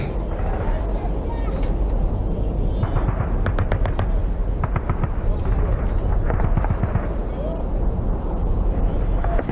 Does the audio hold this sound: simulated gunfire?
yes